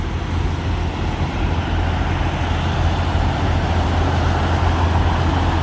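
Hundreds of trucks idle together in a huge US parking lot at the Iowa 80 truck stop, producing a loud, steady, dense low rumble of engines with no breaks throughout.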